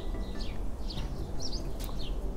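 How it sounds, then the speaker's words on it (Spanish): Birds chirp in short, scattered calls over a soft breeze on a home balcony, fairly faint and distant, with no talking. "no sé si podréis escuchar el ruido de los pájaros y el viento."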